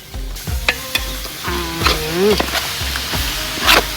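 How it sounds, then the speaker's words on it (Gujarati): Yogurt is stirred into crumbled millet flatbread frying in a pan, producing a loud close sizzle with repeated thudding knocks of the spoon and a short wet squelch partway through. "હવે આપણે નાખી દઈશું અંદર દહીં દહીં નાખી દો હવે રોટલા"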